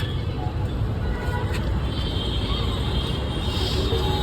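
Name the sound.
traffic on a main road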